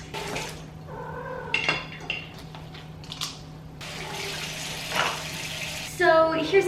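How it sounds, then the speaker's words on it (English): Cat in heat meowing in short, tonal cries several times in an apartment, mixed with clinking dishes and running tap water nearby. "that's my cat. She's in heat right now."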